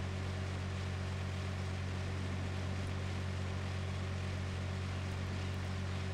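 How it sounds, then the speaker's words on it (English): Small tractor engine in the Pure Farming 2018 farming video game on a Montana farm, a steady low droning hum running unbroken, with no talk. "So this little tractor is good for this kind of stuff."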